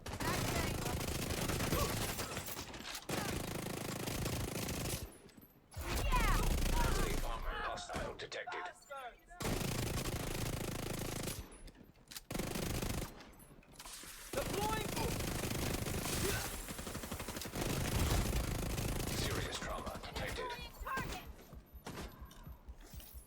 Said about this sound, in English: I can hear the shotgun, I can't see it.